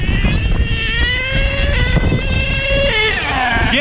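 HPI Savage XL nitro RC truck with a K5.9 or X4.6 engine revving hard, its high whining pitch rising and then dropping sharply as it shifts up through the three-speed gearbox near the end; close and loud throughout.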